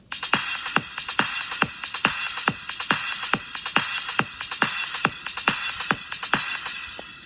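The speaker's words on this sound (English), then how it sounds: "So it's like kick, snare, like that throughout the song" A steady programmed drum beat alternates punchy kick and crisp snare hits at an even mid tempo, repeating throughout with no voices.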